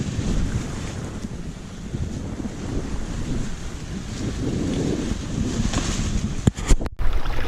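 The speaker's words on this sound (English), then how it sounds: "Sailing with the spinnaker." A Dana 24 sailboat runs under spinnaker with steady wind rushing across the microphone and waves washing along the hull, a continuous broadband roar. Near the end it breaks into a few brief gusty buffets.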